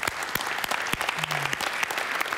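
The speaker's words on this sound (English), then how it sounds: "A big round of applause for Gina" A live audience claps in a big round of applause for a woman being welcomed at a motivational speaking event, steady dense clapping throughout with no talk over it.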